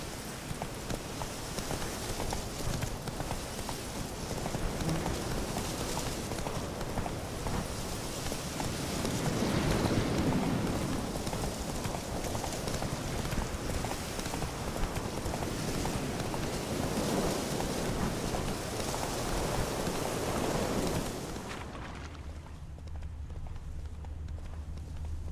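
Roach the horse gallops in The Witcher 3, hooves drumming in a fast, steady rhythm over a windy outdoor background for most of the run, then slowing as the pace eases near the end.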